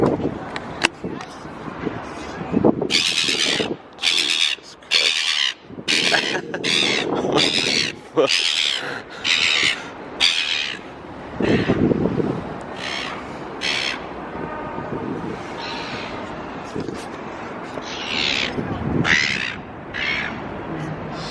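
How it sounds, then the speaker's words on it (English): Harsh gull squawks and cries ring out repeatedly and loudly on Sydney Harbour, mixed with someone talking and outdoor rumble throughout. "Seagull going crazy at me."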